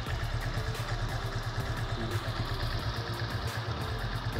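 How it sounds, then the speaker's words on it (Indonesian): A motorcycle engine idles smoothly and steadily close by, a continuous low rhythmic thrum with light mechanical clatter and no voices. "Untuk kondisi mesin ini masih halus."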